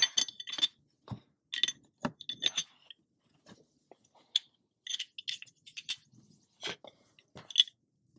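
Small metal parts of a Sig P365 Gen 2 micro 9mm pistol clink and tap in sparse, close bursts as the recoil spring is reassembled, with short quiet gaps between the sharp contacts.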